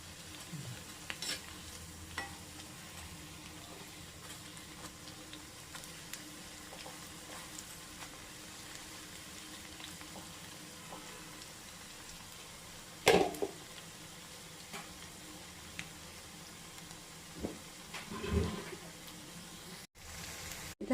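Cauliflower florets fry in hot oil with a soft, continuous sizzle, punctuated by a few louder clinks and scrapes as the pieces are stirred in the pan.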